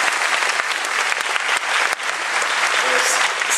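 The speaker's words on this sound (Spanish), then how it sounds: "Denle un aplauso a Monseñor Carlos." An indoor audience at a church catechetical gathering breaks into loud, sustained applause, a dense wash of clapping hands that continues steadily throughout.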